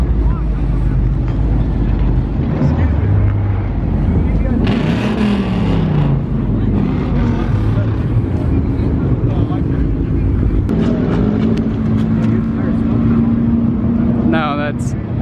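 A drift car with a welded differential roars past, its engine note rising and falling as the tires break loose. The sound is loud, with wind buffeting and people talking over it.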